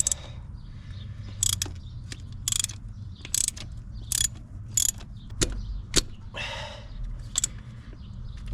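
A ratchet loosening bolts on a 7.3 Powerstroke diesel engine: close, crisp clicking bursts repeat in short spurts with brief pauses between them.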